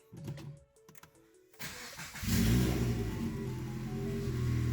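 After a few clicks and rattles, a Subaru BRZ / Scion FR-S / Toyota GT86 engine with only an overpipe and no exhaust piping cranks and roars to life, then settles into a loud, rumbling idle that continues steadily.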